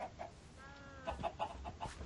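A few chickens in Minecraft cluck softly in short, uneven bursts, fairly quiet and close, with no talking.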